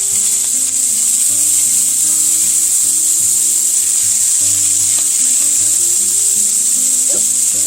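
Scallops sear loudly in a hot pan, a continuous bright sizzle close up with faint clinks from handling and no voices.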